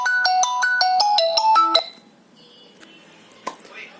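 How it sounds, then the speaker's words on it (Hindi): A phone ringtone plays a quick, loud run of bright electronic beeps in a rising-and-falling melody for about two seconds, then cuts off, leaving faint room noise and a few small clicks. "सॉरी फोन आ गया था।"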